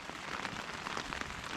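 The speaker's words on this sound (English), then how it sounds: "Rain, rain, rain, rain, rain, rain, rain." Rain falls steadily during a backpacking trip in a rainstorm on a Michigan trail in March, pattering densely on a nearby surface with a constant soft hiss and scattered sharper drop taps.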